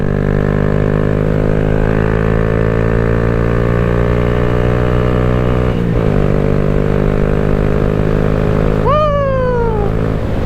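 Honda Grom motorcycle ridden on the move, its engine droning loud and steady with strong harmonic tones, briefly dipping as it shifts, then a sharp rev that climbs and falls away near the end.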